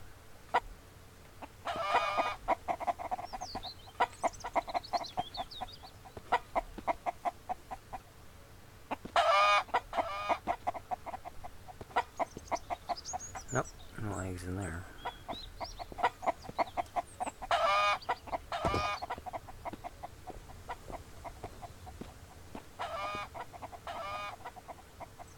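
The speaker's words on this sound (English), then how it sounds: "Kick the chicken." Chickens in the survival game Mist Survival clucking in repeated bursts alongside geese, mixed with footsteps and occasional thumps, moderately close throughout.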